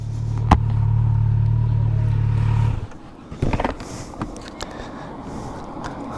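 Kawasaki Z900 motorcycle engine idling with a steady low hum for nearly three seconds, then cutting off, leaving faint outdoor wind and light handling noises.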